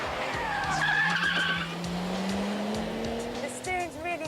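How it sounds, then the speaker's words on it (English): A sports car engine rises steadily in pitch as it accelerates hard nearby, with a whining turbo and tire noise, and a voice briefly audible. "Put your foot down and the turbo spins into action, thrusting you forward at a gigglesome pace."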